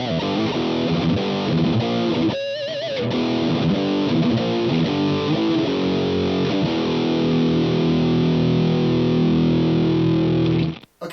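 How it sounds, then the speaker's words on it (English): An electric guitar played through the Amped Humble amp plug-in on its max gain modern preset gives heavily saturated, distorted notes and sustained chords that ring out before stopping abruptly. "that's a lot of distortion as far as the preset goes"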